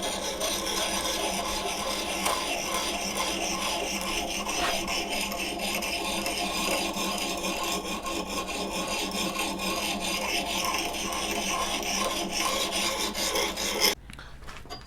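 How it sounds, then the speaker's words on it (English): Abrasive 100 grit paper rasps steadily across a blued axe blade held in a sharpening jig, a continuous close scraping hiss that runs without pause and stops abruptly near the end. "This 100 grit here is taking off some material pretty fast."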